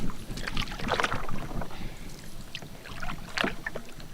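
Canoe paddling on a lake, irregular splashing and dripping strokes close by over a constant bed of wind noise, with no talking.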